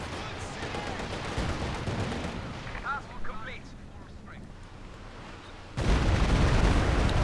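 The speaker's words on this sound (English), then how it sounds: "Not Stuka dive, I'm walking Stuka. Just annihilates that squad in the garrison." Walking Stuka rocket barrage explosions in a Company of Heroes 2 team match make heavy rumbling blasts and crackling detonations. They fade, then a loud new burst erupts near the end, under faint game sounds.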